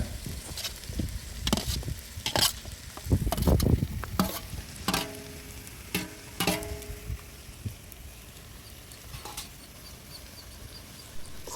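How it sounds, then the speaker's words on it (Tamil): Chicken pieces already fried in ghee are tipped into a pan of sautéed onion masala and stirred, giving a steady close sizzle broken by repeated scraping and stirring clatters that ease off toward the end. "அதுக்கப்புறம் நம்ம நெய்யில் பொரித்து வச்சுருக்க சிக்கனை சேர்த்துக்கோங்க."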